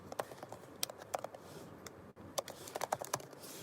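Quiet clicking on a computer keyboard in bursts of several keystrokes, with a short pause midway before the typing resumes, close up and with no talk.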